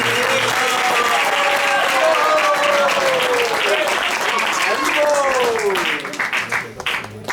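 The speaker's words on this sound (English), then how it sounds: "Can we give a really big round of applause" An audience at a home temple program applauds warmly, with dense clapping joined by cheering voices and whoops, fading toward the end.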